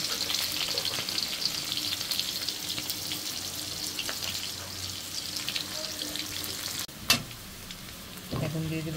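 Hot oil in a heated kadai sizzles steadily as chopped onion, cumin and whole garam masala fry, a dense hiss close at hand that briefly cuts out near the end before a sharp clatter and renewed frying.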